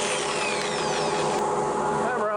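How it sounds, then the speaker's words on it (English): A power tool whirs steadily, close and constant, as a cherry wood bowl is sanded starting at 180 grit, with a faint pitch sweep partway through. "Sanding time! Everybody's favorite activity. Gonna start with 180 grit."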